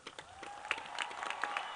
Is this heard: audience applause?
yes